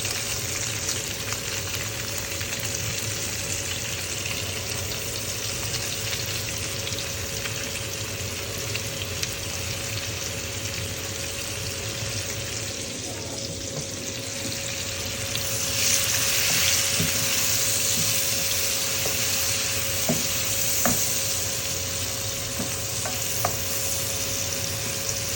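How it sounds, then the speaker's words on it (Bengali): Onions fry in hot oil with a constant, dense sizzle heard close up for a long stretch, with a few faint clicks of utensils and a slight swell in the hiss partway through. "এখন এই তেলের মাঝে পেঁয়াজ দিয়ে দিচ্ছি।"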